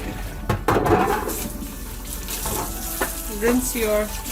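Water from a bowl used to wash chicken pieces is poured down a kitchen sink, a close gush and splash with gurgling draining sounds and a few clunks, no voices.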